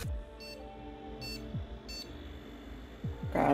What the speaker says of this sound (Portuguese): Caramba, 3 bip.